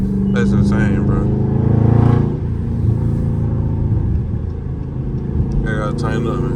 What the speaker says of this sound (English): It's a Charger drive with a gas cap open.